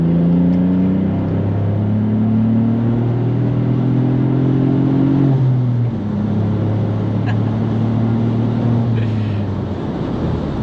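A VW Up GTI with a six-speed gearbox and a dual-exit straight-pipe exhaust pulls hard through the gears. The engine drones loudly from inside the car, rising in pitch, dropping at a shift, then climbing again.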